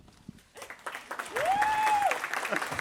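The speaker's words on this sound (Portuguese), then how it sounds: "Aplauso logo de manhã, assim, muito bom." Applause greets a guest on a morning talk show, starting as scattered claps and swelling into a fuller, steady round with voices and a rising tone mixed in.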